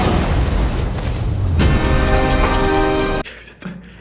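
A loud action-movie explosion booms across the first three seconds, then cuts off abruptly into a brief quieter tail.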